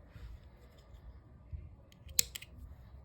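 Scissors snip through dark pink crochet yarn with one sharp, close cut and a faint follow-up click, over quiet near-silence.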